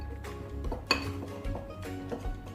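Spoon clinking against a bowl while stirring flour-coated chocolate chips into cookie batter, a few soft, close clinks and scrapes at an uneven rhythm, fairly quiet.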